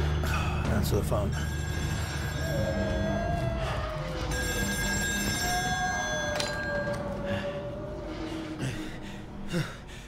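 Old telephone ringing on an offshore oil rig in the video game Still Wakes The Deep, a sustained bright bell ring over low rumbling ambience and tense music, with a voice speaking.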